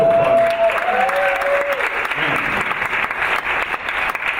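A jazz ensemble concert audience applauds, a full, close burst of clapping with a few whistles and cheers early on, sustained at steady strength throughout.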